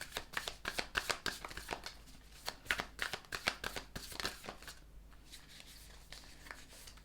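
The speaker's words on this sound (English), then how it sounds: "I'm going to pick one of these cards for you guys" A deck of tarot cards is shuffled by hand, close up, with quick riffling flutters and soft slaps in a busy rhythm that thins to quieter handling and picking near the end.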